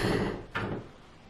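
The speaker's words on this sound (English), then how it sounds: "My cat opened the door again." A cat pushes open an indoor door, giving a single short knock-like thump with a brief creak that rises out of a low room hum and fades quickly.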